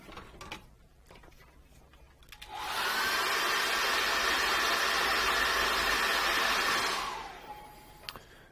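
A hair dryer blows steadily on fresh acrylic paint to dry it, a loud continuous whirring roar that switches on, runs for about four seconds and then cuts off.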